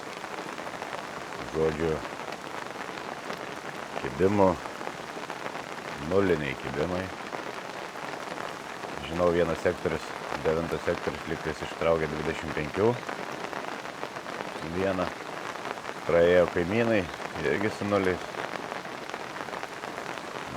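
Steady rain falls on a surface during a carp-fishing session at Tauragė, a soft continuous patter running through the whole stretch while someone talks over it.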